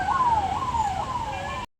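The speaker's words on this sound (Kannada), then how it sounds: "ಇಲ್ಲೊಂದು ಆಂಬುಲೆನ್ಸು ಹೋಗ್ತಾ ಇದೆ ಇವಾಗ. ಅದು ಎಷ್ಟು ಹೊತ್ತಿಂದ ವಾರ್ನ್ ಹೊಡಿತಾ ಇದೆ ಗೊತ್ತಾ?" An ambulance stuck in traffic sounds a continuous wailing siren that rises and falls, loud and fairly close, then cuts off abruptly.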